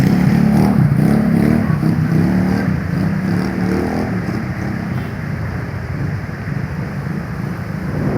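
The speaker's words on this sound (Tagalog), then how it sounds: "Ay, may NMAX na pumasok." A Yamaha NMAX scooter pushes through flood water, giving a loud, steady rush of engine rumble, splashing and wind buffeting that eases slightly toward the end, with no talking.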